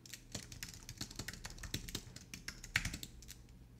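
Rapid, uneven clicks of keys being typed on a computer keyboard while entering text into an online Ruby coding lesson, close and fairly quiet, with no talking.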